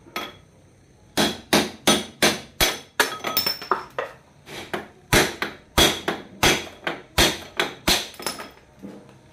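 A hammer strikes a punch to drive out the steering head bearing of a Kawasaki Ninja 150RR motorcycle, producing about two dozen sharp metallic blows in quick, fairly regular bursts. The blows are close and loud, with no talking.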